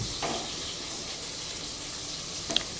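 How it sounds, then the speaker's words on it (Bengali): Fish fries in hot oil, a steady dense sizzle close by, with a couple of brief brighter crackles and spatters, and no one speaking. "শুধু মাছটাই একটু চারজনের জন্য 4টা মাছ ভাজা করে নিচ্ছি"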